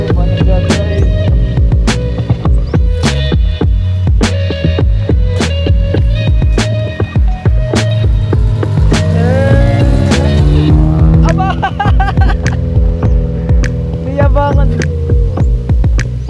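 A manual stick-shift car is driven with a loud, close, throbbing engine hum whose pitch climbs and drops as the revs change through the gears.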